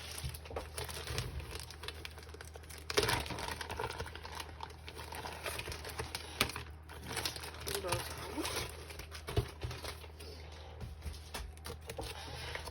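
Paper and sticker sheets are handled close up, giving light crinkles, soft rustles and small taps scattered throughout, with a person talking over them.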